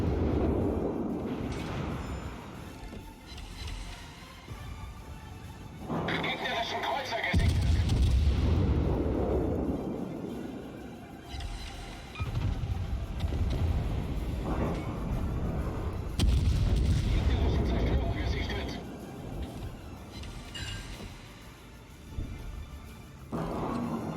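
Heavy guns of the cruiser Hindenburg boom repeatedly in a World of Warships naval battle, several deep salvos spaced through the stretch, with a player talking intermittently between them.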